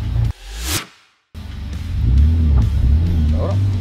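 A car engine revs while driving, its low droning pitch climbing and wavering under people talking, after a loud whooshing burst and a short gap of silence.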